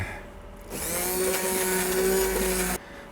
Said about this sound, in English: I have an immersion blender, so I'm going to use this.